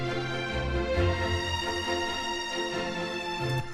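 Orchestral strings alone without the oboe, a full sustained legato chord texture holding steadily at even loudness throughout, with gentle shifts in the low notes.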